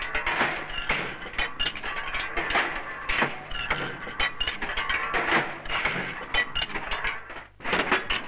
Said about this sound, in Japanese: 金型からオートバイのボディがプレスされる。